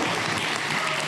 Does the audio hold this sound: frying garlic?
no